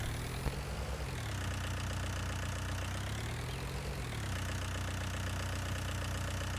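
A farm vehicle engine idles in Farming Simulator 19: a steady, close, mechanical drone with a knocking texture whose pitch dips and rises slightly, running continuously with no talk.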